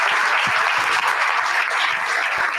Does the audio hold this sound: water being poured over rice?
no